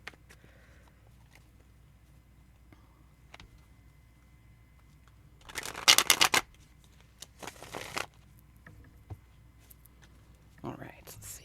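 Message cards shuffled for a card reading give a short burst of papery riffling, followed by a few softer card flicks and handling sounds in a quiet room.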